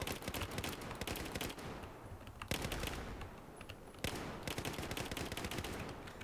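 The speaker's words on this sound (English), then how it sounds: "Oh, I like the sound of this gun, actually. It sounds really cool." A gun in Battlefield 4 fires automatic bursts of rapid shots, with two short pauses between the bursts. The fire is fairly quiet overall, with crisp repeated cracks.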